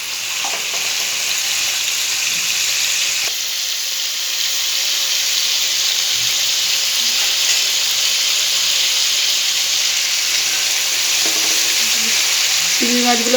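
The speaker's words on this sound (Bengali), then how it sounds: "চিংড়ি মাছগুলো ভাজা হয়ে গেছে," Shrimp fry lightly in a pan, producing a loud, continuous close sizzle and hiss with occasional soft stirring and clinks, steady throughout with no one talking.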